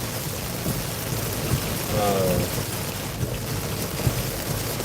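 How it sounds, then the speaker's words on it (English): Heavy rain downpour pelting a car driving at about 45 mph during storm chasing, a steady dense wash of drumming drops and road noise with brief louder gusts, no one speaking. "it's got a pretty good downpour coming on right now"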